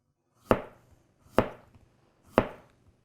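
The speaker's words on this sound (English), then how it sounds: "You can push cut with it." Three evenly spaced, crisp thuds of a Mikarto Damascus chef's knife push-cutting vegetables on a board, each chop clear and close with quiet gaps between.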